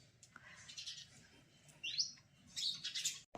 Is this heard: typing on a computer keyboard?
no